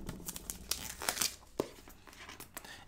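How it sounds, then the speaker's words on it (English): Packaging for an Apple Magic Trackpad 2 is cut and torn open up close, with a quiet series of crinkling, ripping and tearing sounds and a few sharp crackles. "let's unbox the Magic Trackpad 2. Give a little cut here."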